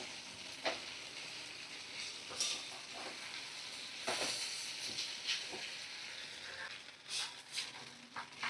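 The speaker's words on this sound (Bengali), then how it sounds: "তো দেখো পরিমাণ মতো একটু গরম জল আমি দিয়ে দিলাম" Hot water poured into a pan of curry sizzling on the stove, with bursts of loud hissing and steam amid steady frying crackle and occasional stirring scrapes.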